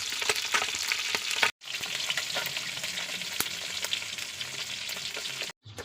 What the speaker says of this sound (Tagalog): Habang nagpiprito ako